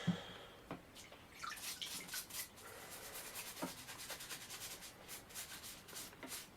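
Bypass pruners are scrubbed clean during tool hygiene work, making a quiet, close, irregular series of brushing rubs and light scratchy strokes with small clicks, heard alone without speech.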